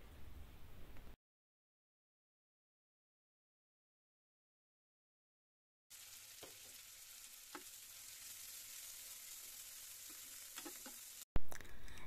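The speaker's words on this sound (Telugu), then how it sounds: "లైట్ బ్రౌన్ కలర్ వచ్చేంత వరకు వేయించుకోవాలి" Green chillies and sliced onions fry in a pan, giving a steady, close sizzle with a few soft stirring knocks, interrupted by a stretch of silence.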